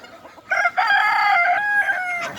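A rooster at a poultry seller's crows once, loud and close, a drawn-out cock-a-doodle-doo rising and falling over about two seconds, no talk.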